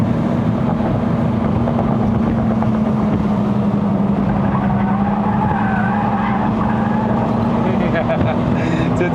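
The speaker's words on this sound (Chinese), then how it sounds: "就听到这个轮胎叫声啊" Tires squeal from an MK3 Ford Focus 2.0L Sport+ cornering hard on a mountain road up to Genting, Malaysia. The squeal runs long and steady over a loud, continuous engine and road roar heard from inside the car.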